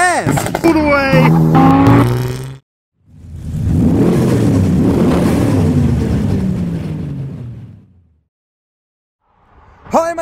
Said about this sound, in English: And the car's leaving the show.